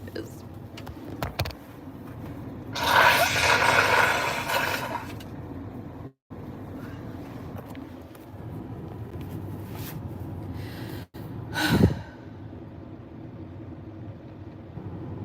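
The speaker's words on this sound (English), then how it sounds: "Hold on, I gotta blow my nose one more time here." A loud, noisy nose blow bursts out for about two seconds, followed later by a second short honk, amid quiet room noise and small handling sounds.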